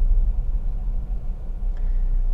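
A Honda Integra Type R DB8 with about 156,000 km and nearly twenty years of use accelerates on the road, its engine giving a steady, deep rumble heard from inside the cabin.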